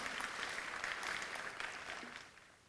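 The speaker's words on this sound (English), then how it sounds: "Let's give them once more a round of applause." An audience at an Indian Arrival celebration in Trinidad and Tobago gives a round of applause for young under-12 participants, moderate and distant, fading away by the end.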